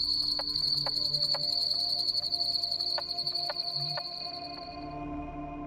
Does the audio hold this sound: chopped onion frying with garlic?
no